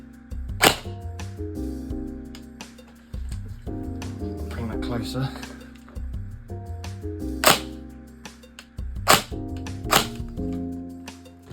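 Tokyo Marui HK417 NGRS airsoft electric gun handled up close, its trigger giving sharp isolated clicks and snaps between sustained tones, with someone speaking quietly in between.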